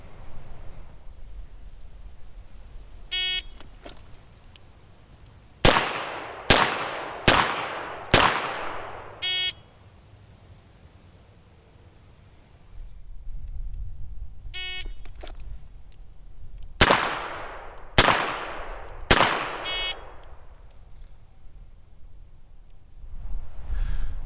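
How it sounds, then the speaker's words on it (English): Colt Trooper revolver fired during a handgun qualification, two quick strings of three and four loud sharp shots close by with echoing tails, separated by quiet gaps and faint beeping signals. "I draw and fire 3 rounds into the body of the target in a time limit of 5 seconds."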